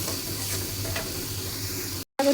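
Meat hits a pan of fried spice paste, a dense continuous sizzle with a low rumble beneath, cut off abruptly near the end before a brief return.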